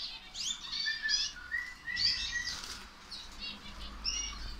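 Crested, frilled canaries chirp in quick repeated trills while wings flutter and flap close by, a lively, fairly quiet chatter with no voices.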